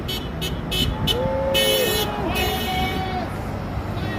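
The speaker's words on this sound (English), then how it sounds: "more honks." Several car horns honk in short bursts and longer blasts amid steady roadway traffic noise, fairly close and loud, passing a roadside rally outside the Kootenai County Sheriff's Office.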